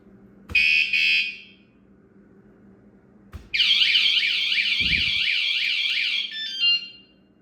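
Loud electronic alarm on a 2021 Yamaha Tracer 9 GT motorcycle: a short warbling burst, a pause, then a sustained siren-like wailing tone with rapid pitch sweeps, close by, with a thud underneath.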